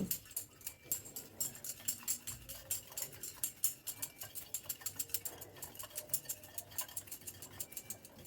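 Semolina being mixed with yogurt and water in a bowl by hand, a quick run of light scraping and tapping strokes in a steady rhythm, close and fairly quiet, with no talking.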